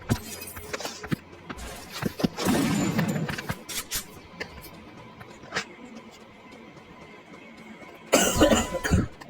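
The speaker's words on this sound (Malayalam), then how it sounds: "ചുമ വരും, അത് ശരിയാണ്." Coughing bursts from a person during a live online game stream, one fit around the third second and another near the end, loud and close over quieter background noise.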